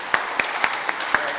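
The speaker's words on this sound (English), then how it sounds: "let's give a round of applause to Rob." A church congregation applauding during a Sunday morning service, with steady, moderately loud clapping across the room and a few sharper individual claps standing out.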